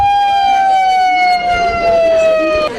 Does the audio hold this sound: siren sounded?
yes